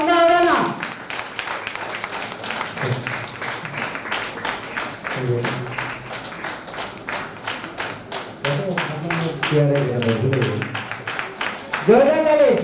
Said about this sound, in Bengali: তালি বন্ধ হবে না।